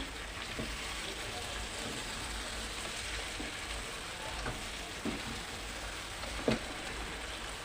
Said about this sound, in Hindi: अभी 2 मिनट के लिए हमने इसको इसी तरह भूनना है इसको